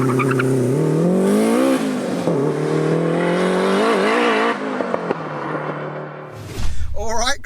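A big-turbo Toyota MR2 sleeper launches hard, its engine note loud and close as it climbs steadily in pitch with a brief dip. It cuts off abruptly near the end, followed by a short burst of voices.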